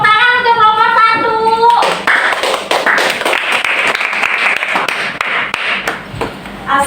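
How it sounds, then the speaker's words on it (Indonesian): Classroom applause for a student group about to present a project, a dense patter of hand claps starting after a brief sung or chanted tone and continuing steadily, fairly close and loud. "Tepuk tangan untuk kelompok 1."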